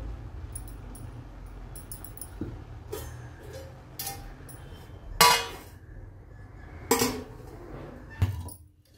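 Metal clinks and clatters of a lid settling onto a cooking pot of veg biryani, a few sharp knocks spread over a quiet kitchen background with low hum.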